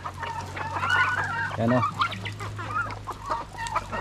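Turkeys on a farm clucking and gobbling close by in short bursts, with a person briefly speaking amid the birds.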